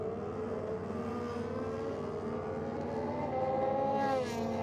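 A Yamaha 900 triple and a Kawasaki Ninja drag race at a dragway, their engines roaring steadily with rising and falling revs, fairly distant and sustained throughout with no voices.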